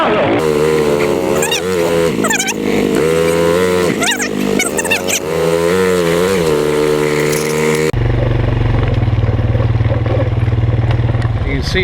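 Three-wheeled rally vehicles roar through a ravine at the Big Red Rally 2014, loud revving engines rising and falling close by, with shouting voices and music layered over the engine noise.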